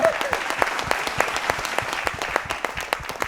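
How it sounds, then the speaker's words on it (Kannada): Applause bursts from a studio audience at the finale of a televised singing show, dense rapid clapping that stays loud and continuous from start to end. "ಐಶುಗೆ ಜೋರಾದ ಚಪ್ಪಾಳೆ ಬರಬೇಕು"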